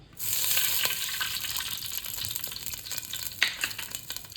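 Country chicken frying in oil and ghee, a dense continuous crackling sizzle that rises quickly and holds steady with occasional brief pops, close and without talk.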